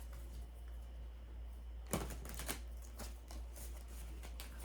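A few soft papery riffles and taps of tarot cards being shuffled, close and quiet, over a steady low hum.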